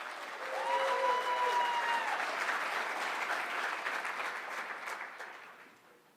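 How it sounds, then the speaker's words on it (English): Audience applause at a mobile apps showdown event, a steady spread of clapping that holds for several seconds and then slowly fades, with a faint tone heard briefly near the start. "So how about a round of applause for Robin Raskin?"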